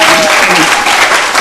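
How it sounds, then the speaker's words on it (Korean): Church congregation applauding at an anniversary worship service, a steady broadband wash of clapping filling the short stretch with no clear gaps, loud and close. "박수 한번 부탁드리겠습니다"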